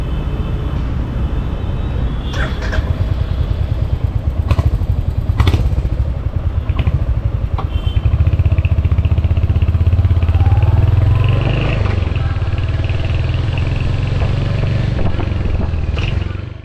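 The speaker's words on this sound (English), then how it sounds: "Today I'm riding the Hunter 350, the lightest motorcycle Royal Enfield has ever produced." A 2023 Royal Enfield Hunter 350 single-cylinder engine thumps steadily while riding through the city, loud and close, rising in pitch as it accelerates, with wind rush and occasional clanks.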